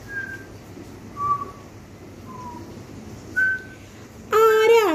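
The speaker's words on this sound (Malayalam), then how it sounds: "ചൂളമടിക്കുന്നേ?" A person whistles several short single-pitch notes spaced by pauses, then ends with a louder, rapid, warbling run of whistled tones, fairly close, over a quiet background hum, with no speech.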